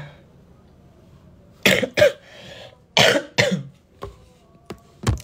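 A person coughs in two pairs of sharp, close bursts, followed by a few faint clicks, in a quiet room.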